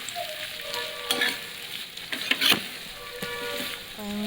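Radish pieces fry in oil while a spoon stirs them, producing a soft steady sizzle with scraping and clinking strokes against the pan at close range.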